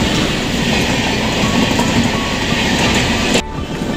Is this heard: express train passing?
yes